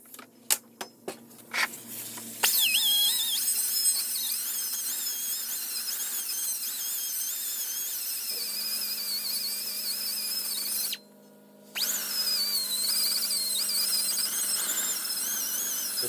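A high-speed rotary grinder ports an intake manifold, starting with a few sharp clicks before settling into a shrill, wavering whine whose pitch shifts as it cuts. It stops briefly, then spins back up.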